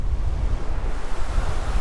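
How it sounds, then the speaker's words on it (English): Strong wind blows across a creek beside a makeshift dam, roaring steadily and buffeting the microphone with loud, continuous low rumbling gusts, and no talking is heard. "The wind is picking up. It's blowing right in my face."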